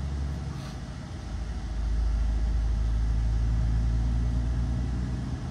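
Volkswagen Meteor 29.520 6x4 truck loaded with 57 tonnes of ballast, its engine droning steadily as it drives up toward 45 km/h, a loud low rumble that swells and then holds even.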